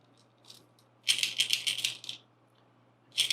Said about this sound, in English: It sounds like a couple different chambers where it's rattling. So you get sort of a multi-pitch rattle.